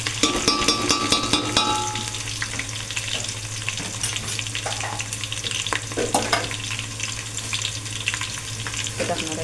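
Fresh wet onion sizzles and fries in hot oil for a Marathi tempering, a loud continuous crackle with scraping stirs from a spoon, a faint voice speaking over it.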